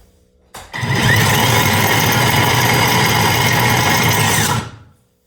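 Ryobi battery electric snowblower with a faulty impeller and auger powered up, a loud steady motor whine and rattle starting abruptly and running about four seconds before stopping, close and with no talk.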